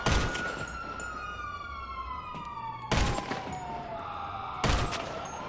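Police siren wailing in the video game GTA 5 Online, a sweeping tone that rises and falls, broken by sharp bursts of gunfire, moderately loud and with no talk over it.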